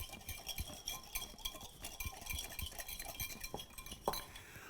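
A spoon stirs honey and soy sauce in a pan, making faint, steady clinks and scrapes against the metal with a low sizzle beneath, and no talking.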